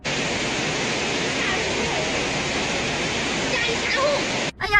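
Floodwater surges through a county town in Tibet, a dense, steady roar of rushing water filling the whole stretch loudly before it cuts off abruptly at the end.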